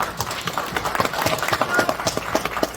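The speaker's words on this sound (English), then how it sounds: "I think that deserves a round of applause" Applause fills a boxing press conference at Madison Square Garden, a dense, steady patter of many hands clapping together throughout, moderately loud and close.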